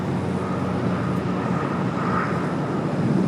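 An airliner at Los Angeles International Airport: a steady, broad jet engine rumble and hiss held at moderate level for the whole stretch, with no voices over it.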